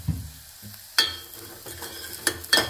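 Salad being tossed and mixed with chili powder, a few soft scraping and clattering stirs in a bowl with quiet gaps, close and fairly faint.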